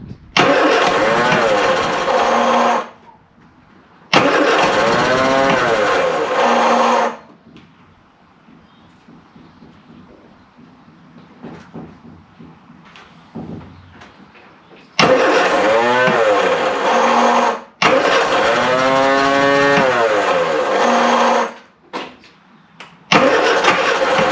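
A classic Mini van off the road for 25 years cranks in loud bursts, catches and runs roughly, then drops to a faint, uneven idle before cranking and revving again in long bursts.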